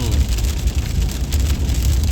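Rain falls steadily on a wet road in a constant broadband hiss, with a low rumble of passing cars underneath and no pauses.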